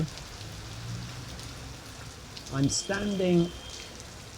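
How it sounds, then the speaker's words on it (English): Heavy rain pours steadily onto Panska street in Chernivtsi, a constant hiss of drops on pavement running underneath the whole stretch while someone talks over it near the end. "I don't think this rain is doing anything other than getting heavier right now."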